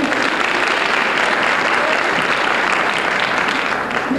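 Steady, dense applause from a pageant audience greeting the performers, filling the whole stretch at an even loudness with no clear breaks.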